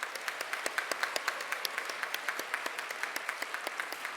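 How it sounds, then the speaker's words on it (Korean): Rhythmic clapping from a seminary chapel congregation at an anniversary worship service, distinct regular claps at a steady beat, moderately faint and somewhat distant, with no talk. "우리 뜨겁게 박수하겠습니다."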